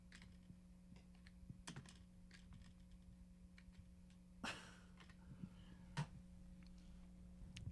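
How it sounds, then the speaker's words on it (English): Sparse, quiet keystrokes on a computer keyboard, a few clicks at a time with irregular pauses, set against a steady low electrical hum, with one or two louder taps standing out. "Isn't typing such a hassle?"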